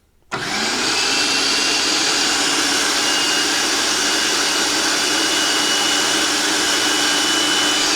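A kitchen blender purees chili colorado sauce with a loud, steady, high-pitched whir that starts abruptly after a brief moment of quiet and holds constant throughout.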